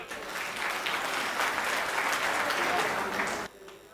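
An audience at a comedy poetry event breaks into loud, sustained applause, a dense wash of clapping that cuts off abruptly near the end.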